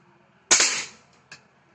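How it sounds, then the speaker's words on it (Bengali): A Daina mod 35 air gun fires once from about thirty feet away, giving a single sharp, loud crack that decays quickly, followed by a faint click. "আমি তিরিশ ফিট দূরত্ব থেকে ফায়ার করতেছি দেখেন ফায়ার"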